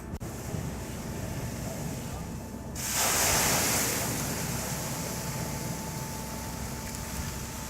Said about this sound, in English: introducing water to a grease fire is never a good idea